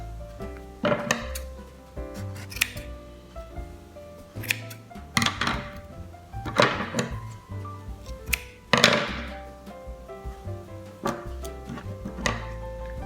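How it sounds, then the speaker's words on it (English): Scissors snip through loops of a Christmas farmhouse decor craft, about half a dozen sharp, separate cuts spaced a second or two apart over steady background music. "Then we're gonna cut all of the loops."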